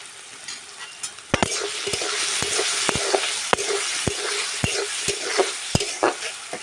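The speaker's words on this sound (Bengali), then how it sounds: "এবারে আলুগুলোকে ভেজে নেব।" Chopped potatoes fry in hot oil with salt and turmeric in a pan. A loud, continuous sizzle carries sharp spatula knocks at a steady, regular rhythm as the pieces are stirred.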